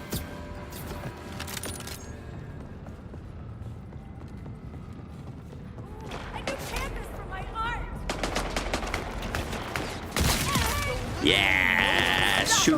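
A Daedalus sniper rifle loaded with shotgun ammo fires multi-pellet blasts in Borderlands 4, with scattered gunshots building from about six seconds into dense, loud bursts, along with game effects and a bright tone near the end.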